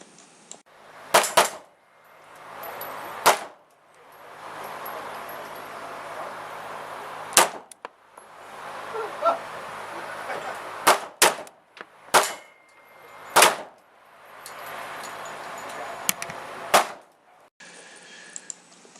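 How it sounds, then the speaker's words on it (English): A Mark 23 pistol fires at a shooting range, giving about a dozen sharp, loud cracks at irregular intervals over steady background noise, with no talking. "that's one of 2 videos I think I have of me shooting this pistol"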